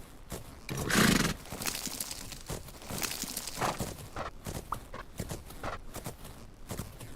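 Hoofbeats of a horse cantering in the video game Fernhoof Grove, a steady rhythmic clip-clop with a loud burst near the start, shifting through varied footfalls and scuffs over several seconds.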